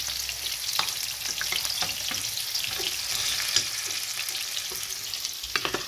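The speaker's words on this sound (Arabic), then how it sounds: "وخلصنا قلينا البتنجان" Eggplant frying in oil, a continuous crackling sizzle with occasional pops and faint stirring, close and moderately quiet.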